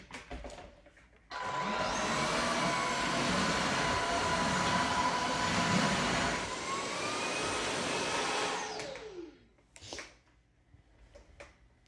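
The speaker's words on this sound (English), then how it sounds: "Has two modes, regular and turbo, and then also a self-cleaning mode." A Tineco cordless floor vacuum in self-cleaning mode, starting abruptly into a loud, steady whine and whir that holds for several seconds before winding down with a falling pitch, followed by a few clicks.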